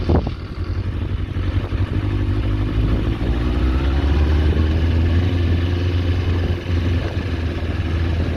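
A scrapped Kawasaki ZX4 motorcycle runs while ridden, its engine giving a steady, close, rough drone with a faint clattering texture and a brief dip near the end.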